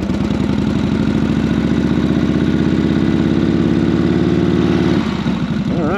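A 1942 Harley-Davidson WLA motorcycle idles steadily and loudly up close, its low, lumpy engine pulse running unbroken before a brief rev change near the end.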